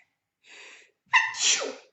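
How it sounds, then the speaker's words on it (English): A soft sharp inhale, a brief pause, then one loud, explosive sneeze trailing off into a breathy exhale, close up with no talking. "I have to sneeze"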